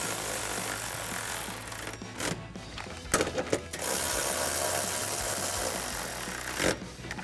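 A 13mm socket ratchets a bracket bolt tight while drop steps are fitted to a Toyota Tacoma, giving a short run of close clicking bursts over steady broadband background noise.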